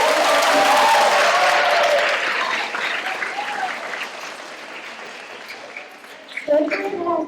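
A school assembly crowd of students applauds for the second grade. The clapping is loud and dense at the start and then slowly thins and fades, with a few voices coming through near the end.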